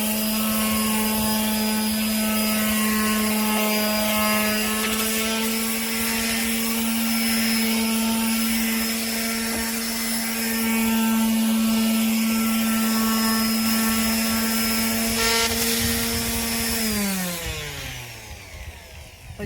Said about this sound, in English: I'm going to sand these boards down with 220 grit